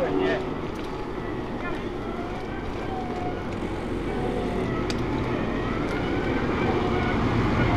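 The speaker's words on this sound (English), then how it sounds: "Bloody great big tractor coming." A big tractor approaches and passes on a country road, a steady broad engine rumble with wind noise running throughout, heard from a bicycle ride.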